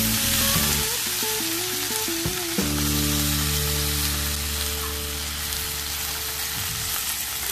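Drumstick leaves and egg sizzle and fry in a pan for a Kerala-style egg thoran. The steady, loud sizzling runs throughout with no talk.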